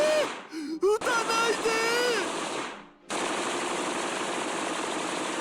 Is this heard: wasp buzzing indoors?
no